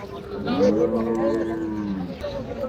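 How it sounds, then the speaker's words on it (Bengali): A bullock at a cattle market in Joypurhat lets out one loud, drawn-out moo of about two seconds, close to the microphone, with faint background murmur. "এই যে সুইট ভাইয়ের গরুগুলা দেখতেছে দর্শক"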